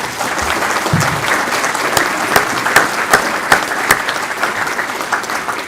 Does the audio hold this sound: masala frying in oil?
no